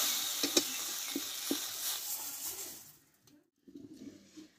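Okra sizzles and fries in a pan, with several scraping stirs early on, then the sizzle fades to near silence before a softer burst of frying returns.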